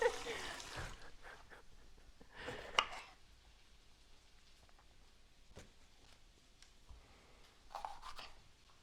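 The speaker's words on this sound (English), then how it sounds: "usually just slice them long ways so they're kind of like strips." A kitchen knife slices a bell pepper into strips on a board, a few soft, scattered cuts and taps spaced apart, quiet and close, with brief rustling between them.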